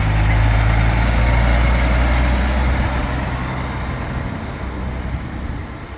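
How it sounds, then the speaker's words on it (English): A big truck rumbles past on a Washington DC street, loud and close, its heavy low engine drone filling the scene before slowly easing as it moves away amid general traffic noise. "here's a big truck, just hang on"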